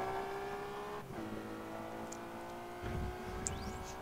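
A car engine accelerates in the Test Drive Unlimited racing game, with a steady, loud engine drone, a shift near the one-second mark and a fresh surge of power near the end.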